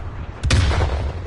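Gunfire in a video game: a sharp double burst of shots cracks out near the start, followed by a booming tail and low rumble.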